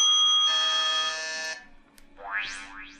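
Electronic buzzer sound effects played one after another: a sustained harsh buzz, then a short blip, then two rising sweeping boing-like tones, close and loud with no talk.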